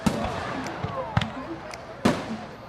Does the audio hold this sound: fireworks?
yes